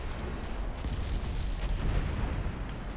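A torpedo strikes a warship in Ultimate Admiral Dreadnoughts, a dense low rumbling boom over steady battle noise, with scattered faint crackles throughout.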